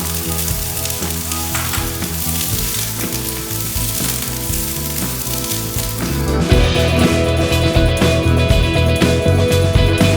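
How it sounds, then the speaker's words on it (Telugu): Paneer sizzles in hot ghee in a frying pan with a loud, steady crackling hiss that grows denser and stronger partway through, with no voices. "హాఫ్ టీ స్పూన్ నెయ్యి వేసుకొని పన్నీరు మనం వేరుగా ఫ్రై చేసుకోవాలి"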